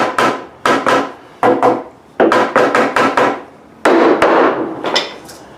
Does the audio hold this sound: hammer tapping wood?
yes